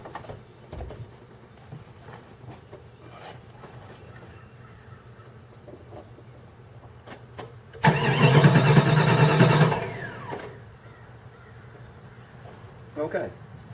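A Jeep ZJ with the 5.2 engine cranks hard in cold weather: a loud burst of starter whirring and squealing lasts about two seconds before dropping off, surrounded by quieter background noise and a brief later sound.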